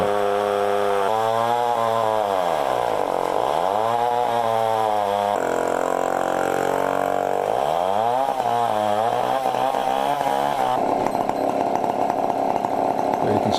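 A chainsaw mills a long bur oak log with a very long chain, roaring loud and close and continuously. The pitch dips and rises as the engine bogs in the cut, then steadies into a higher whine near the end.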